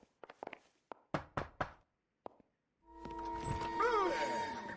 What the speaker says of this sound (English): can you knock these?